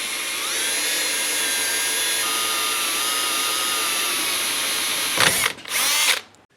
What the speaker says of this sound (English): Now I'll drill this side